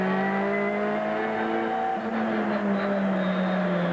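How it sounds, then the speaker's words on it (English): A Ford Sierra turbo race car at a 1989 Adelaide motor race spins its wheels, the loud engine note climbing and dropping as the revs shift, with a brief tyre squeal mixed into the continuous roar. "Plenty of wheel spinning, and just hear that rev changing."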